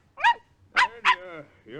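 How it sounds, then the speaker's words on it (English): A dog barks three times in a radio drama scene at a car's rear during a passport check, short sharp yaps followed by a softer whine, close and fairly loud. "picked up the dog by the scruff of the neck, and started to pet him"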